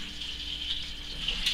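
Sugar wash liquid from a 23-litre turbo batch siphoning through a tube into another vessel, a steady close trickling gush with faint rattles.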